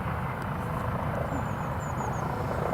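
An RAF A330 landing at Newcastle Airport produces a continuous broad engine roar, steady and fairly loud, with a faint high whine drifting above it.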